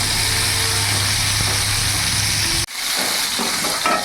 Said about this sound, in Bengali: আমার পটলগুলো ভাজা হয়ে গেছে,